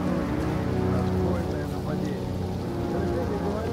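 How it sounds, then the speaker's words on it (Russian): Heavy rain hisses steadily throughout in Detroit: Become Human, with sustained musical tones droning underneath. "тут тоже начался тяжелый дождь"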